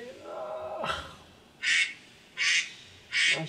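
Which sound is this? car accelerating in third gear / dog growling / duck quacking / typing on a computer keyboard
duck quacking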